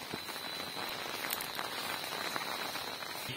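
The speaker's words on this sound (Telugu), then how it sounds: "మనకు వర్షం పడుతుంది." Rain falling at night on a forest hiking trail under a thick tree canopy on a hill trek near Vizag, heard as a soft, steady, even hiss of drops with no voices.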